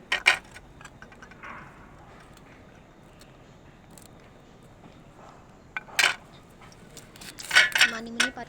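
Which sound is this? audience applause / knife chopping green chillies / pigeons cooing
knife chopping green chillies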